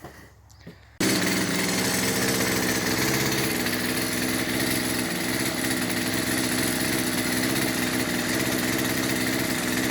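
A small two-stroke chainsaw engine, just repaired after carburetor work, kicks in abruptly and keeps running at a steady, rattling idle, loud and close, with no voices.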